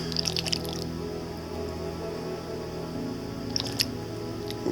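Alcohol fuel squirts in short, wet, dripping bursts into a homemade alcohol stove and its primer tray, one cluster at the start and another a few seconds later, close and quiet.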